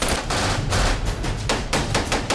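Rapid bursts of automatic gunfire from a gunfight in the action film Safe House, loud and close, with dense repeated shots in quick rhythm and no speech.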